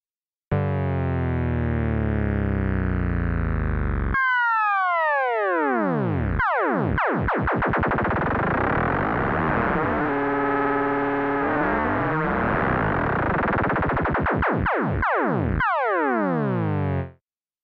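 Loud electronic tones from a Tone2 Saurus synthesizer using audio-rate modulation warp and sweep rapidly, with harsh metallic, ring-modulated textures, dense distorted buzzing and pitch dives, continuous throughout with no voices.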